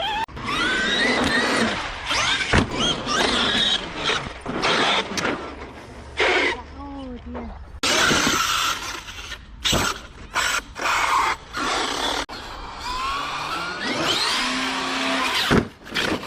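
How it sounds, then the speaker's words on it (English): A Traxxas X-Maxx 8S RC car with stripped gears whines and grinds in loud bursts of motor revving and mechanical rattling, broken by short pauses, with brief exclamations between. "Oh no, I heard a grind."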